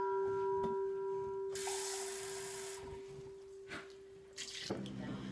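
Water pours briefly into a bowl with a bright splashing hiss, then trickles off, over a faint steady background tone.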